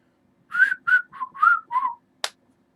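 Someone whistles a short run of five clear, bright notes with brief gaps between them. A sharp click or tap follows, then silence.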